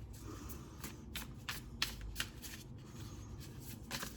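Tarot cards being shuffled during a zodiac reading: a quiet, steady run of riffling card flicks and soft slaps, close up and repeating at a quick rhythm, with no voices.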